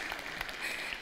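A lecture audience gives a brief burst of applause, soft and distant, a quick wash of clapping that lasts only a moment.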